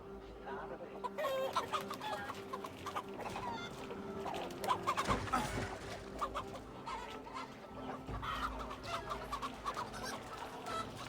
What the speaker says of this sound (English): Getting chased by chickens.